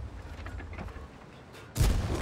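In World of Tanks, a single tank cannon shot bursts out loud and sharp near the end, after a stretch of low background game noise.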